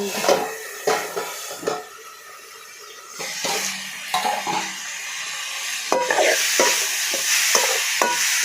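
Cluster bean stir-fry with oil, mustard seeds, onion, green chilli and curry leaves sautéing in a pan, giving a steady loud sizzle broken by repeated scraping and clinking stirs of a spoon against the metal.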